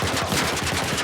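Rapid automatic gunfire aimed at the player in The Last of Us remake, a dense burst of rattling shots in quick regular succession, close and loud, with no speech.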